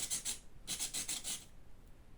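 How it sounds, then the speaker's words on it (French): Close, rasping file strokes on rounded plastic parts of a Tamiya Neo Fighter buggy model kit, two short bursts of quick back-and-forth rubbing, then quiet. "Ils sont pas simples à limer tes pièces arrondies."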